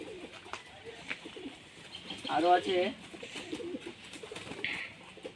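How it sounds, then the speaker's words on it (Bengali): A male Talgaram pigeon coos in a swelling, throaty burst midway through, close by, while someone speaks briefly nearby and small rustles surround it. "এটা হলো তল গরম নর পায়রা"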